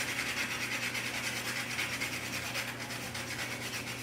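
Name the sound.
grating with a small handheld grater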